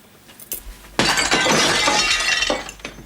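Cutlery dropped at home, a sudden loud metallic crash and clatter that rings on for about two seconds before dying away, with light clinks before and after.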